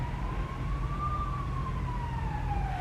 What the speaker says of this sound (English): Pausing for the ambulance, I think.